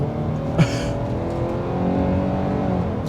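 A 2023 Kia Sportage X-Line SUV in sport mode accelerates with a steady, fairly loud engine drone and rising hum from inside the cabin, with one brief knock early on and no talking.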